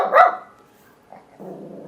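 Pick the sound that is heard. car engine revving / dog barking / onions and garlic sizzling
dog barking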